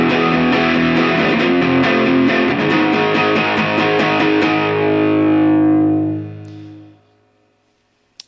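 A Warmoth Mooncaster electric guitar, heavily distorted, plays dense chords with a wash of reverb, then rings out and decays into near silence over the last seconds.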